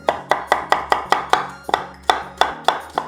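A knife chops a carrot on a cutting board in about a dozen crisp, evenly spaced strikes, close and clear with no talking.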